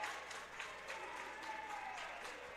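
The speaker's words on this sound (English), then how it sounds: "There you hear the applause" Applause from the home crowd at a men's college ice hockey game rolls steadily through the arena, a faint, distant wash of clapping with no clear break.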